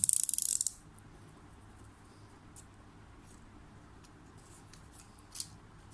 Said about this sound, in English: measure out 7 cm and draw a line and cut along the line